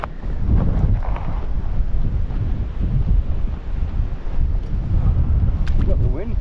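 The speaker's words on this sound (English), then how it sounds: "You've got the wind pushing you too." Strong wind blows outdoors by the water, buffeting the microphone with constant loud rumbling gusts. Muffled voices come through briefly.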